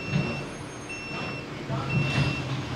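A garbage truck beeps steadily as it backs up, its engine rumbling underneath, with a brief hiss of air.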